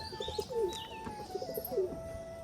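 Pigeons kept at a home coo in soft repeated bursts, a few calls close by with faint chirps and a steady tonal hum in the background, no voices.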